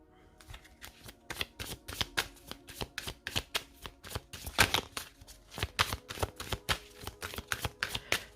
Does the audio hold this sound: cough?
no